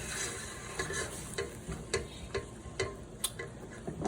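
White cooking wine reduces in a hot pan with a soft, steady sizzle, broken by sharp clicks and scrapes from stirring at an irregular rhythm.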